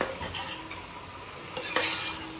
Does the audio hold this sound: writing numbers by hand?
no